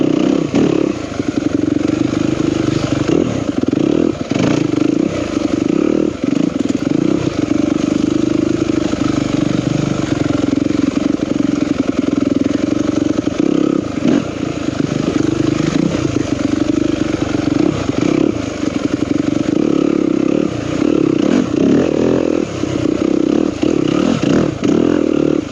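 A 2021 Yamaha YZ250FX dirt bike rides single track, its engine droning steadily and loudly up close with rising and falling revs and some clatter throughout, with no talking.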